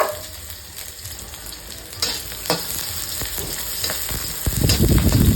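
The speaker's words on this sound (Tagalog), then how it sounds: "Lagay muna natin ang sitaw sa kawali. Medyo i-brown yan." Sitaw (green beans) frying in a hot pan for pakbet, a loud close sizzle with stirring scrapes that grows stronger toward the end, no voices.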